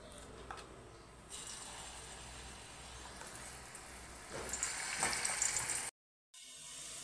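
A steady, faint crackling sizzle of spice paste frying in hot oil in a wok, with a brief louder burst midway and a short dropout near the end.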